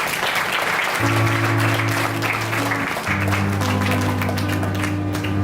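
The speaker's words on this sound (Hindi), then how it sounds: "जोर से परमेश्वर के लिए तालियां बजाएंगे।" A church congregation applauds loudly and steadily throughout, with sustained keyboard chords playing beneath the clapping.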